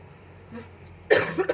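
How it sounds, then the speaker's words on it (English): One sharp, loud cough from a person with the flu after a quiet moment, followed by a couple of smaller throat-clearing coughs. "So please excuse my coughing."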